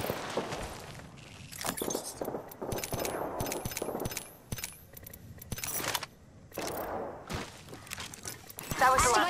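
Gunfire in Apex Legends on Kings Canyon: sharp, irregular shots and impact cracks, with breaking and clinking debris, jumble together close and loud, and a voice speaks over part of it.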